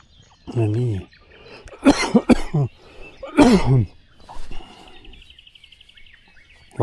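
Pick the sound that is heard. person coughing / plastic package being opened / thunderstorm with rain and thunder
person coughing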